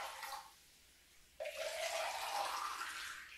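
Cold water is poured into a vessel of warm salt water: a soft trickle fades out, then a louder, steady splashing pour starts abruptly and continues to the end.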